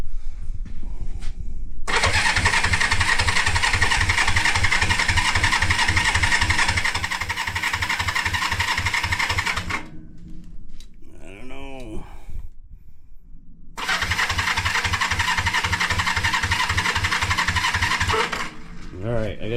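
A 1973 Honda CB350G motorcycle engine fires up for its first start in over ten years and runs close by with a loud, rapid, pulsing putter. It cuts out, pauses with a few clunks, then restarts and runs again before dying.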